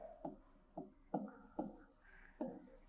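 Numbers written by hand on paper during a maths lesson, heard as soft rhythmic pen strokes and taps in short repeated bursts, quiet and close with no talking.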